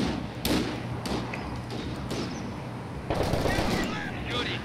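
Anti-tank gun firing in the Company of Heroes 2 war game: several sharp booming shots with thuds and gunfire around them, mid-distance amid battle noise.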